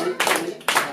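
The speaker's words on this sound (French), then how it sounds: "Et nous allons donc applaudir. Applaudissons." Two short bursts of applause from a church congregation at an Easter celebration, quick rounds of clapping hands close by, each lasting under half a second.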